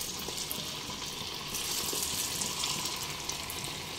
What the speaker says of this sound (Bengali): তেল গরম হয়ে এলে এবার একে একে খুব সাবধানে কিছুটা ম্যারিনেট করা চিকেনগুলো দিয়ে দেব।